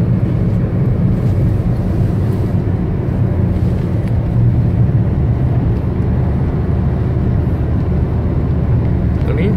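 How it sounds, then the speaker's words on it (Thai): Airliner, apparently a Nok Air jet, descending to land at Don Mueang Airport, heard as a loud continuous low roar blended with road traffic for the whole stretch, no talk. "เครื่องบินกำลังล่อนลง"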